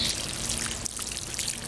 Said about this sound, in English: Just get a little water in on your seeds.